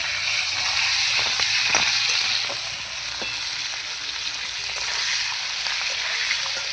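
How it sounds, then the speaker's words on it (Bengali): Goat liver frying with potatoes in a pan, a steady close sizzle and hiss with occasional clicks and scrapes of stirring, no talk. "এবার কিন্তু এর মধ্যে আমি মেটেটা দিয়ে একটু ভেজে নেব।"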